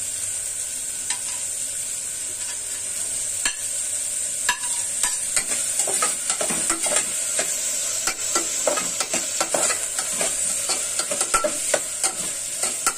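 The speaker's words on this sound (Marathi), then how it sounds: "कांदा गोल्डन ब्राउन झाला की त्याच्यात घालायचा टोमॅटो।" Onion frying golden brown in a pan for spiced masale bhat, giving a steady loud sizzle with frequent sharp scrapes and clicks of a stirring spatula, close up and with no talking.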